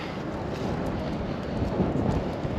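Strong outdoor wind gusts at a mountain vehicle expo, a continuous low roar buffeting the microphone with a steady rumbling rush that swells slightly toward the end, no voices over it.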